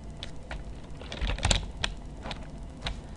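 A handful of distinct keystrokes tapped on a computer keyboard, close and crisp, evenly spaced over a few seconds with a faint background hum.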